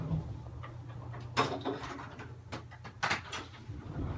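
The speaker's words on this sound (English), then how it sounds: "Let me close this door." Indoors, a door is pushed shut, giving a couple of dull knocks and a scraping thud about two seconds apart against a quiet room hum.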